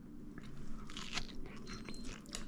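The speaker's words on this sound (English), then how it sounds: "The tonkatsu is delicious and crunchy" Crisp, crackling crunches of someone biting into a fried, breaded pork cutlet (tonkatsu) up close, with rustling chews and no talking.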